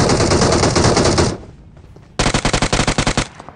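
A magnet gun fires in the BGMI battle-royale game: two loud bursts of rapid automatic shots, the first long and steady, then a short gap and a second burst of distinct cracks trailing off.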